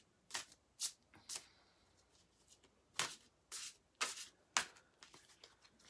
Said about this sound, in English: I'll start shuffling